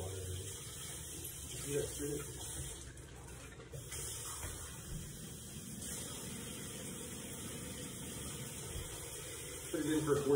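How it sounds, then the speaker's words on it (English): Hand washing under a running kitchen tap, water spraying steadily into a sink at a moderate, even level for the whole stretch, with background voices or television murmur underneath and a louder splash near the end. "now I'm just gonna go wash my hands."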